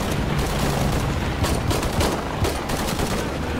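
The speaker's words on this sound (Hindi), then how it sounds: "अबे पिस्टल से मार रहा हूँ।" Rapid pistol gunfire in the shooter Shadow of the Tomb Raider, a dense, steady burst of close shots running continuously with no talk over it.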